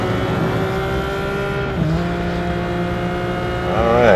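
A Ferrari F50 in the racing game Real Racing 3 revs hard and steadily, its loud engine whine holding high, dipping briefly with a gear change around the midpoint, then climbing again, close and continuous with no talking.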